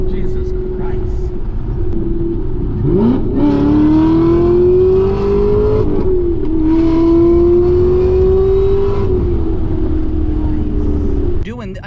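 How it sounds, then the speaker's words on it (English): A 2017 Camaro ZL1 V8 engine revs hard and loud through rising, climbing pulls with a gear change partway through, close and dominant the whole time. "Damn, that's a V8."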